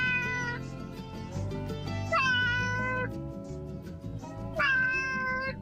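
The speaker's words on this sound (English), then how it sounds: "Where's the cat coming from?" A cat meows repeatedly inside a radio studio, several clear, drawn-out calls that rise and fall in pitch, heard close and loud against a low background hum with no talking.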